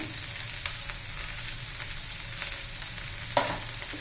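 Okra with gram flour cooking uncovered in an open pan gives a steady, soft sizzle and frying hiss close by, with a brief scrape of stirring near the end and no talking.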